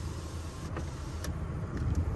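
Power window motor whirring inside a flood-damaged Ford F150 pickup at a salvage auto auction, a low steady electric hum with no talking.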